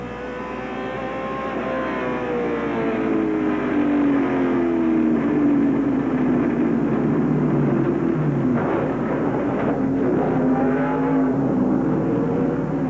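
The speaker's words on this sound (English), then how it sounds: "This is Sedgwick's truck headed back to the pits" A NASCAR Craftsman Truck Series race truck at Indianapolis Raceway Park in 1996 heads back to the pits, its engine droning loudly with falling and rising pitch sweeps as it passes, no talk over it.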